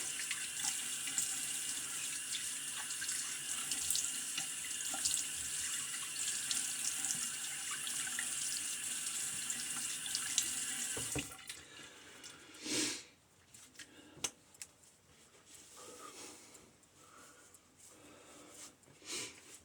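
A bathroom sink tap runs steadily while a razor is rinsed under it, a close hissing water stream that cuts off midway, followed by a few faint clinks and drips.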